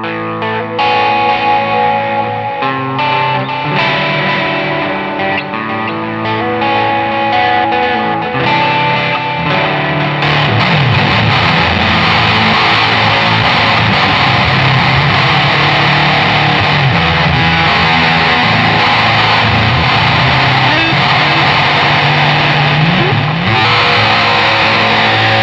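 A Jazzmaster electric guitar runs through a Fuzz Face fuzz pedal and a Particle Verb reverb, giving a loud, distorted, sustained tone. Chords and notes ring into a continuous reverb wash throughout, with no talking.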